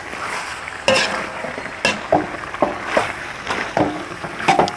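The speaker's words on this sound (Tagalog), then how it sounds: "Sasangkot-say lang po natin ito hanggang sa mag-brown yung chicken." Chicken sautéing in a pan for Thai green curry, with intermittent sizzling bursts and stirring scrapes every half second or so, close and fairly loud, without talk.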